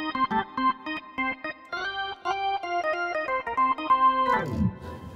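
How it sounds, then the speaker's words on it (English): Hammond organ synth chords play in short, rhythmic stabs with a bright tone and a reverberant tail, ending in a descending pitch sweep. "But this particular Hammond organ has got that classic."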